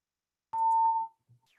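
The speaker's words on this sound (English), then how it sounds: "They picked right now to test the fire alarms in the building." A building fire alarm under test gives one clear, steady electronic beep lasting about half a second in a quiet office, followed by faint small noises.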